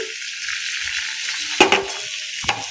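Cumin seeds and green chili sizzling in hot oil and melted butter for Kolhapuri pav bhaji, giving a continuous bright, crackling fry with two sharp clinks of a utensil against the pan near the end.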